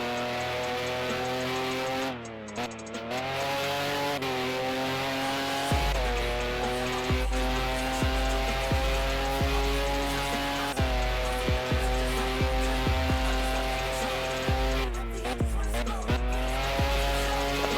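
Race cars scream through the last two corners of the Singapore Grand Prix, a loud sustained engine whine that rises and falls with gear changes, punctuated by repeated sharp tire squeals and skids.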